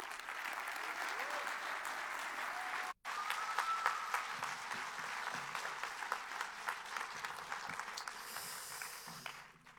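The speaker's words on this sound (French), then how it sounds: "vous pouvez l'applaudir, Thierry Jobin" At a film festival closing ceremony, an audience applauds artistic director Thierry Jobin, with sustained crowd clapping that cuts out for an instant, then resumes and carries on with some voices mixed in.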